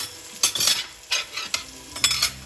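Crushed shallots, ginger and garlic sautéing in a pan for rasam, with soft intermittent sizzles and stirring scrapes in a few short bursts, close and fairly quiet.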